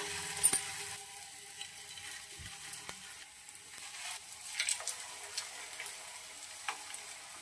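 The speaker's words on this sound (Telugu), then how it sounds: "ఇప్పుడు ఇందులో కట్లెట్లను వేసుకొని కాల్చుకోవాలి" Sweet potato cutlets go into hot oil in a kadai and fry with a quiet, steady sizzle, broken by a few soft clinks and taps from placing and turning them; nobody speaks.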